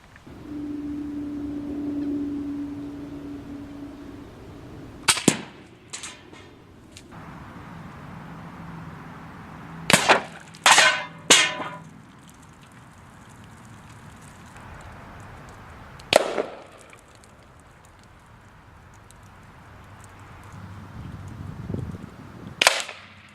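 Hatsan Bullboss .25 caliber air rifle fired at long range outdoors: several sharp, loud cracking shots, some single and a quick cluster of three, separated by quiet pauses with a low steady hum in between.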